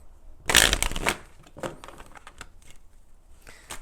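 Tarot cards are shuffled by hand in a short, close riffle, a loud burst of rapid clicking flutter followed by lighter, scattered card taps.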